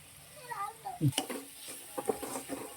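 Spoon stirring a beerakaya (ridge gourd) egg curry after coriander powder is added, giving soft scraping and light sizzling in the pan, with a couple of brief clinks, close and moderately quiet.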